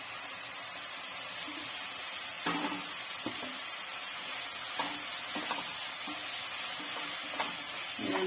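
Crushed garlic, ginger and chopped green chillies fry in a pan with a steady hiss and crackle, with occasional spoon scrapes and knocks throughout.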